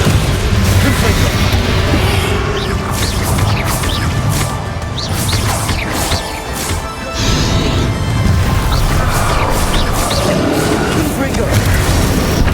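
Confringo explosive spells in Hogwarts Legacy go off as loud, repeated crashing booms and smashes in heavy chaotic combat, with a brief lull midway, while a voice is heard over the din.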